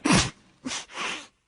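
A person sneezing up close, a sharp sudden burst followed by two softer breathy bursts, brief and loud with nothing else around.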